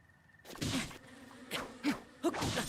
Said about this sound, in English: Run away from the bees.